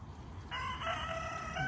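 A rooster crows loudly outdoors near a backyard chicken yard, a drawn-out cock-a-doodle-doo over faint background noise.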